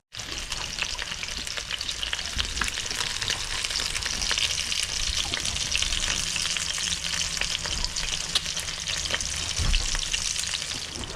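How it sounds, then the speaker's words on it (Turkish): Freshly caught tuna frying in a little oil aboard a sailboat crossing the Atlantic, a steady dense crackling sizzle close up throughout, with faint stirring clatter and no voices. "Az önce yakaladığımız tunayı şimdi pişiriyoruz. Az bir şey yağıyla."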